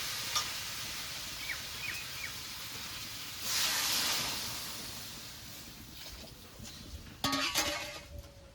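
Water poured into a pan of frying fish curry with potatoes and spices sets off a broad hiss and sizzle that swells midway and flares again near the end, close and steady with no talk.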